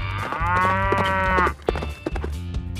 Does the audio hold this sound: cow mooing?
yes